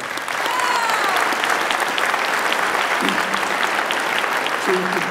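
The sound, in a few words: audience applause for JROTC students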